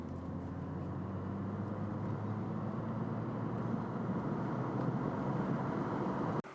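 An old Mercedes W210 sedan, abandoned for over five years and running on decade-old tires, drives along with a steady low engine and road rumble inside the cabin, ending in an abrupt cut.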